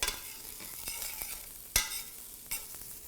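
Onions sizzle steadily in a pan with a bright, constant frying hiss, cooking for a French meat pie. A few sharp utensil clicks and scrapes stand out against it, close and clear, with no voices.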